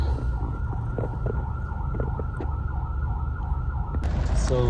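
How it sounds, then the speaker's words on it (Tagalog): Ambulance siren wailing through heavy traffic, a steady tone drifting over a constant low road rumble, with a sharper burst of noise at the very end. "Dami na ambulansya naririnig namin."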